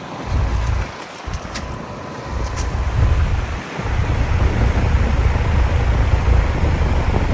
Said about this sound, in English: LG scroll compressor.